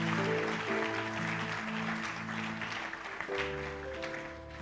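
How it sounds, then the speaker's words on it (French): A church congregation applauds and cheers loudly, a dense wash of clapping carried over sustained organ or keyboard chords that continue throughout. "Est-ce qu'on peut acclamer très fort?"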